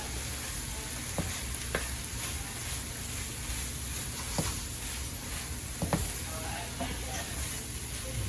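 Pompano Marsala steadily sizzles and fries in a pan while a utensil stirs through it, with occasional sharp clicks and scrapes against the pan over a constant hiss.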